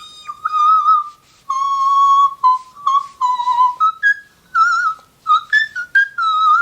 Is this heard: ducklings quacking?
no